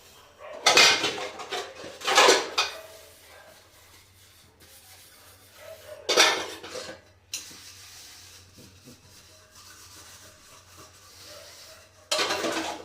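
Dishes clatter and scrape in several bursts, metal pots and cutlery knocking and rubbing, with quieter rinsing and handling in between.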